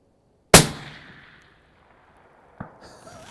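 A single loud Bergara HMR Pro 6mm Creedmoor rifle shot cracks out sharply and decays over about a second, followed a couple of seconds later by a fainter distant impact report and a bit of faint voice.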